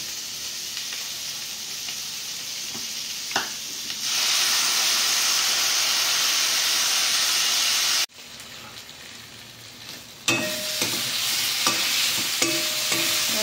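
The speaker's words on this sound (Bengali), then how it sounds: "মশলাটা কষা হয়ে গেছে" Ground spice paste for a cabbage and fish-head dish frying in a pan, a loud steady hissing sizzle that swells, cuts off abruptly, then resumes more quietly with stirring clinks.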